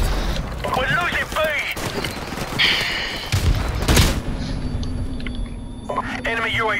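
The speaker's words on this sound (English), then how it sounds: "so many grenades" Grenades go off in the video game Modern Warfare Remastered as repeated booming blasts and thuds amid the chaotic noise of a busy match. Game voice callouts and player talk run over the explosions.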